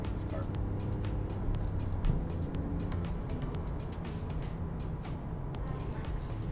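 A Porsche 911 C4S engine drones steadily under acceleration with rapid manual gear changes, heard from inside the car as a constant, loud rumble with brief dips between shifts.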